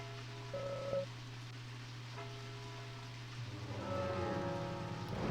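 Steady rain falls in the video game Deadly Premonition Origins, a continuous soft patter layered under sustained tonal background music and ambience, with no talk.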